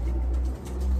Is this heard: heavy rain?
no